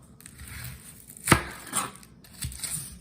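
A knife slices the top off an onion on a cutting board, giving one sharp chop with a couple of softer follow-up cuts, close and fairly quiet.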